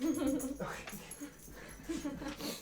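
A dog whimpering and whining in short high-pitched cries close by, several breathy yips spaced across the moment, with a person's soft voice murmuring alongside.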